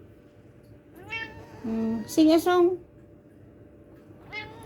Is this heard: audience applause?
no